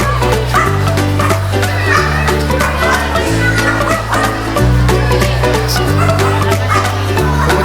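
A dog barks repeatedly over a loud, steady background of music and bustle at SM Makati mall.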